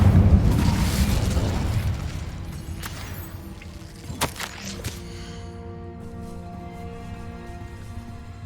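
Bombarda and Incendio spells blast in the video game Hogwarts Legacy: a heavy explosive roar that fades over two seconds, then a few sharp cracks and pops, settling into a quieter humming game ambience.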